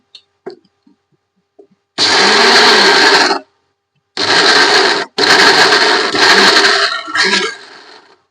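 A mixer grinder whirs loudly in several separate bursts as it grinds mahua flowers for ladoo, each burst starting and stopping abruptly with silence in between.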